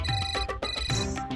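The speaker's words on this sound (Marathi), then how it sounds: "तुमचा फोन वाजतोय." A mobile phone ringtone plays indoors as a loud, repeating electronic melody in quick pulses, close by and with no talk over it.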